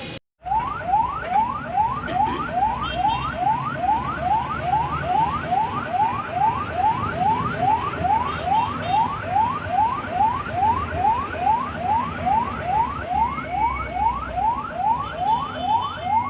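Rescue ambulance siren heard from inside the vehicle in the Philippines, a fast rapid yelp cycling steadily over and over, loud and close for the whole stretch, with road noise underneath and no talking.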